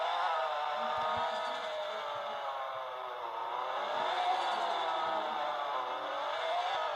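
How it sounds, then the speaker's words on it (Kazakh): A car engine hums in a steady, smooth drone, rising and falling gently in pitch like an idling or slowly revving motor, close and constant with no talk over it. "Ана машинаның даусын азайтып қою керек еді."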